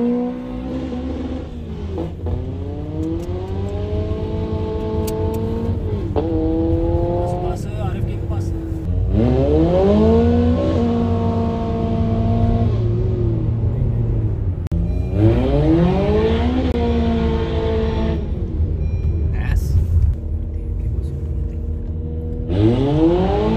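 Car driving on a rough, dirty road without slick tires, engine revving up and down repeatedly in loud rising sweeps with a nearby rumble, while people talk over it.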